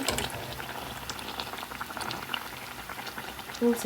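Pitha cakes frying in hot oil, a steady bubbling crackle that runs evenly throughout with a brief faint knock near the end.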